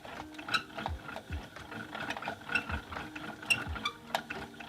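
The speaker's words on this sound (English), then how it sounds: "Once you get it started on your winder, you can usually pick up the pace a little bit." A yarn ball winder turns a hank of yarn into a ball, giving a steady run of small clicking, ratcheting gear sounds with soft whirring, close by and moderately quiet, with no talking.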